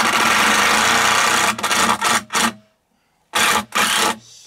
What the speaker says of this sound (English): Who's going to crawl down the hole now and drill from the other way?